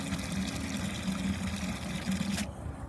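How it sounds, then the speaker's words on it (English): Water pours steadily into a bucket of tomatoes being broken up for seed extraction, a continuous close splashing trickle that cuts off near the end. "So I'm gonna get a little bit more water in here."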